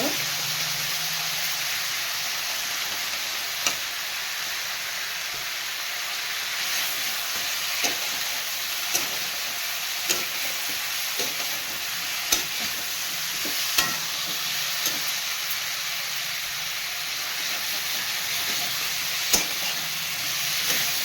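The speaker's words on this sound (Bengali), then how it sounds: "পাঁচ দশ মিনিট ধরে এটা কষি" Snakehead fish curry masala sizzles and hisses steadily in a hot pan for a long stretch, with scattered scraping clicks of a spatula as it is stirred and sautéed.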